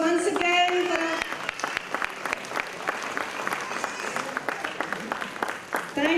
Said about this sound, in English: A huge round of applause once again for our